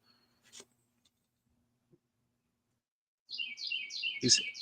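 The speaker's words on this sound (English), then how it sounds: "keep getting interrupted by this loud bird." A loud bird bursts into song after a near-silent stretch, a run of bright, rapid chirping phrases close by.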